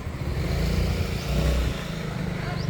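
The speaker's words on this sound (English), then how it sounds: "I'm standing right in the way of a motorbike, and they just kind of patiently wait" A motorbike idling and rumbling nearby on a residential street in Chiang Mai, Thailand, a steady low engine drone with light street ambience around it, no talking.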